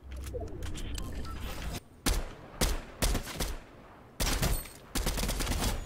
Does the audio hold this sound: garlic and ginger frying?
no